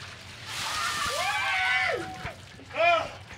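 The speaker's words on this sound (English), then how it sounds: "Can you break down the water bucket dump?" A water bucket is dumped on a baseball player during a post-game interview, a loud near splash and slosh that pours for about a second, followed by scattered dripping and short exclamations from people nearby.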